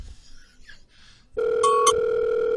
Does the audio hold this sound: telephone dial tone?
yes